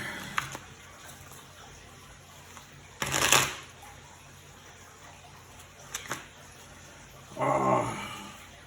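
A feminine oracle card deck is shuffled in a few short, separate bursts of soft riffling and flicking, close by, with quiet gaps between them.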